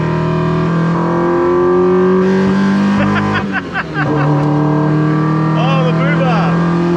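A Honda Civic's VTEC engine revs hard, loud and close, its pitch climbing in strained steps with a brief rasping shift midway before it sings up again, while excited voices talk over it.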